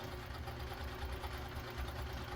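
A Viking Husqvarna 2000 sewing machine runs with a lengthened stitch, giving a quiet, even mechanical hum with a soft, steady rhythmic chatter throughout and no voices.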